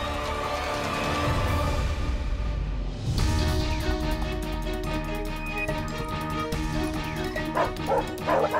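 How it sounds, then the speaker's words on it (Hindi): Several dogs bark and yip excitedly in a mango orchard in a Hindi TV drama scene, loud and close, with rapid overlapping barks and whimpers set against dramatic background music. "वो कुत्ते डॉक्टर शिव को काट लेंगे"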